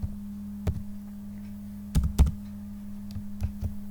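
A computer keyboard is typed on in scattered sharp taps, with a short quick burst in the middle, while a formula is entered in LabVIEW. A steady low electrical hum runs underneath, and nobody speaks.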